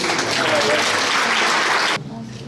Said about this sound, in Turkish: Onları alkışlıyoruz.